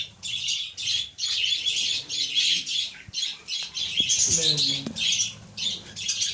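Budgerigars squawking and chirping in a breeding colony, a dense, continuous chatter of many nearby birds throughout, with someone talking over them.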